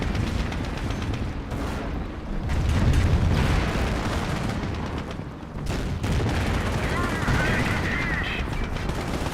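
Calliope rocket barrage in Company of Heroes amid a busy battle: dense, continuous roaring rumble of launches, impacts and explosions layered with gunfire, loud and sustained throughout.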